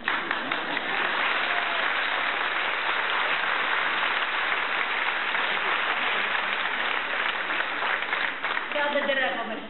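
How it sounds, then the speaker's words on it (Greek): Dense, sustained audience applause fills a theatre hall at a Lions club ceremony honouring stars of theatre and cinema, steady and loud throughout, with a voice briefly heard near the end. "Λοιπόν, χειροκροτάτε, ξέρω ότι θα με χειροκροτήσετε περισσότερο."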